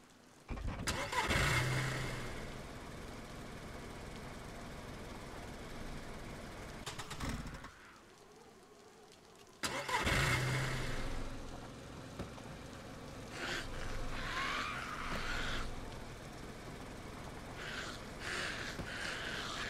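A car engine in DayZ cranking and catching twice, with a gap of near silence between attempts, then idling and revving as the vehicle pulls away.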